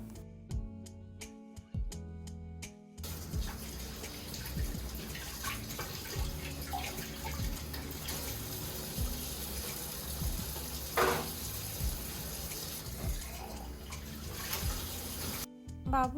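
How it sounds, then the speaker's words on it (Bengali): A baby feeding bottle is rinsed under a running kitchen tap, with water streaming and splashing steadily and a few knocks and clinks as it is handled, alone without talk. "ফিডারটা ধুয়ে পরিষ্কার করে রেখে দিচ্ছি"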